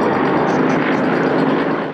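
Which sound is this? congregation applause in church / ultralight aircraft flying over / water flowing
ultralight aircraft flying over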